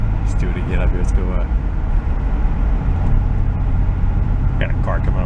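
Engine noise inside a 1970 Mercury Cougar recovered from a scrap yard, a dense low rumble that stays loud and steady as the car pulls away. Voices talk briefly over the drone.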